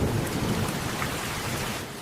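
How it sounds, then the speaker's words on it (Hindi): Heavy rain with rumbling thunder as an animation sound effect, a dense hiss of downpour over a low rolling rumble, loud and continuous for a short stretch, no voices. "एक शाम अचानक तेज बारिश शुरू हो गई।"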